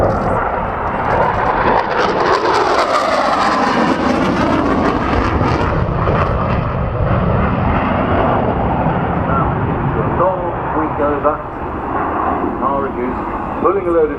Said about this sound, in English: Eurofighter Typhoon.